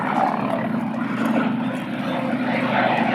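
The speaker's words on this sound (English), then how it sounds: "Ed Besley flying the Curtiss Helldiver." Curtiss Helldiver warbird flying past at an air show, its piston engine and propeller giving a steady, loud droning roar that holds evenly throughout with no talk.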